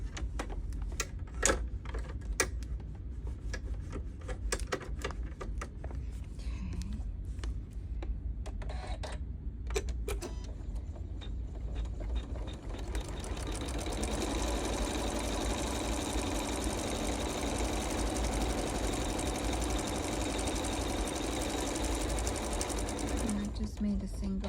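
A sewing machine doing a zigzag stitch on a rope snowman ornament, rapid rhythmic clattering after some scattered handling noises, close and steady in the second half, with a person talking now and then.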